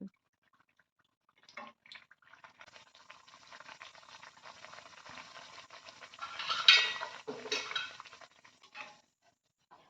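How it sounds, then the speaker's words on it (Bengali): Mutton kachori frying one at a time in hot oil in a kadai: a crackling sizzle starts after a short quiet, runs steadily and swells louder near the end, with a few light utensil clinks. "আমি একটা কড়াইতে তেল গরম করে নিয়েছি। এবার একটা একটা করে কচুরি ভেজে নেব।"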